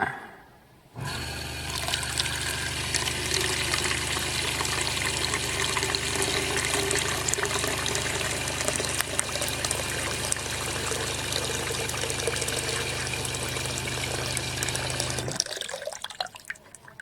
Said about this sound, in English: So this pump has a flow rate of about 3 gallons per minute when it's turned all the way up.